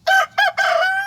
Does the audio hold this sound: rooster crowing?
yes